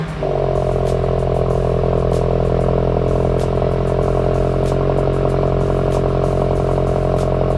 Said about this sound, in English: I want to let you guys hear what it sounds like right now as a stock system